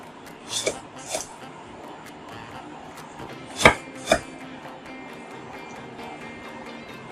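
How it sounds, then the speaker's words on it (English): Peppers chopped on a board, four distinct knife strikes in two pairs, close and fairly loud against a quiet kitchen background. "get these peppers chopped up that we've just pulled off the stem"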